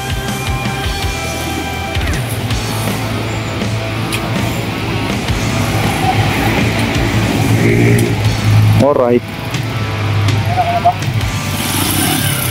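Truck engine running through a driving test, a steady low idle and rumble with a brief rising rev near the end, under ongoing talk.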